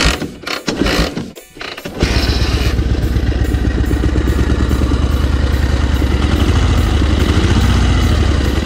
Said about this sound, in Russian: Как слышно по звуку, в мотоцикле не работает один цилиндр.